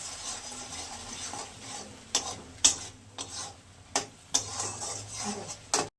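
Masala with salt and sugar being sautéed in a pan for a fish curry with potato and bottle gourd, a soft steady sizzle broken by several sharp scrapes and clinks of the stirring spoon against the pan.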